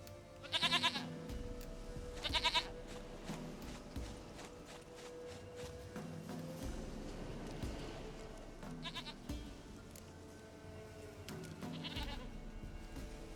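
Goat bleats from The Witcher 3: Wild Hunt, two loud quavering calls early on and two more near the end, set over a steady game soundscape with background music and footsteps.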